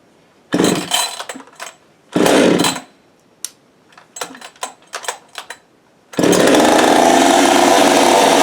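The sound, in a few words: Husqvarna 565 chainsaw running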